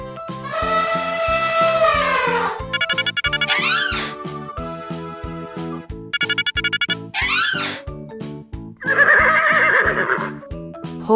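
A horse neighs in a cartoon-style clip, with repeated loud whinnies over a bouncy musical backing and short clip-clop-like patter in between.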